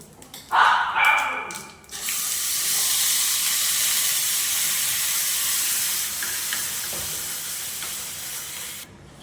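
Chutney hits hot cumin tempering in a pan with a sharp burst of hissing, then settles into a steady, close sizzle that fades slightly toward the end. Some brief clatter and a faint voice come just before the sizzle starts.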